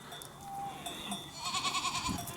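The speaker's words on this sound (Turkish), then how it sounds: "Tekeleri, keçiler görüyorsunuz" Large Honamlı goats and bucks on a farm at Geyikbayırı, Antalya, give a few faint, distant bleats over quiet outdoor ambience, with no talk.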